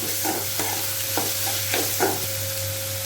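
Chopped tomatoes sautéing in oil in a pan, making a constant hissing fry under a low steady hum, with a few spatula scrapes at irregular intervals, close by and without speech.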